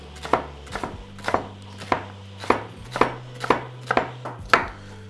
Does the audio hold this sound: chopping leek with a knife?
yes